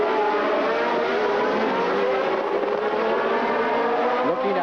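1979 Formula 1 race cars at the United States Grand Prix West scream past in a continuous, loud high-revving wail, with pitch sweeping as the cars close in and pull away.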